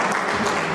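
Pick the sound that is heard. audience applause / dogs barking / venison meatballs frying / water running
audience applause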